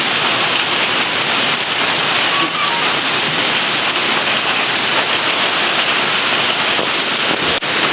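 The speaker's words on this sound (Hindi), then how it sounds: "बारिश हो रही है, जिया पूरी भीग गई है," Heavy rain falls steadily and close by, a dense hiss of drops on surfaces with an occasional sharper tap, with no voices.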